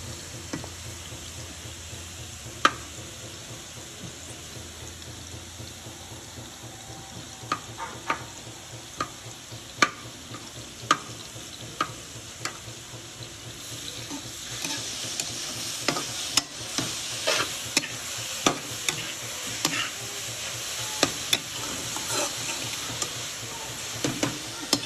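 Grated carrots frying in desi ghee, a soft steady sizzle with repeated sharp clicks and scrapes of stirring, growing busier and louder in the second half, with no speech.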